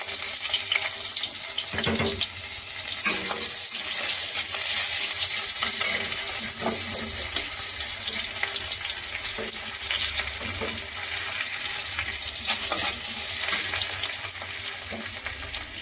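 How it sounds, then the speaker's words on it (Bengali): Onions sizzle in hot oil in a pan while boal fish curry is being cooked, a dense continuous frying hiss with occasional clinks and stirring sounds, close and fairly loud. "তেল গরম হয়ে গেছে, এখন দিচ্ছি পেঁয়াজ"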